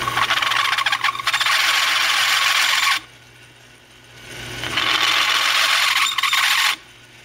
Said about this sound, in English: I'm gonna go ahead and take all this off with a chamfer bit here in the lathe